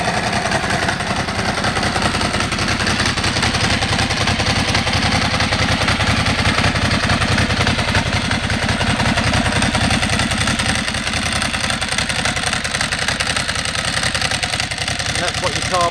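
A Ducati motorcycle with carbon Termignoni exhausts idles close by, a loud steady rumbling throb with a fast even beat and mechanical clatter that holds without a break.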